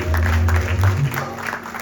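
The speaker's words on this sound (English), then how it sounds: "Give all these executive members a nice round of applause." Applause from an audience at a temple anniversary celebration, honoring the executive board members, a steady wash of clapping with low hum underneath throughout.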